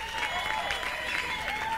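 Live concert audience applause, a dense wash of clapping from a crowd, steady and fairly loud throughout the short burst, with a bit of crowd noise mixed in.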